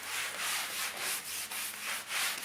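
Sandpaper rubs down dried plaster filler on an indoor wall, giving close, rhythmic scratchy strokes about twice a second in a steady back-and-forth pattern, with no voices.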